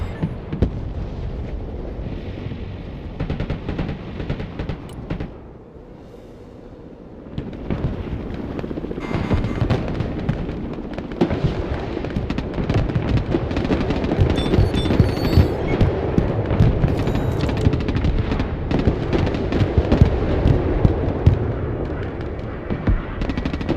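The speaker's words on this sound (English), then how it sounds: "Someone found the thermobaric bombs." Thermobaric bombs detonate in the Broken Arrow war game, a dense, continuous barrage of heavy blasts and crackling gunfire rolling on loudly for over twenty seconds after a brief lull near the start.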